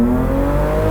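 Datsun 280Z engine revving hard under acceleration, heard from inside the car as a short, loud, rising growl with strong low harmonics and no talk.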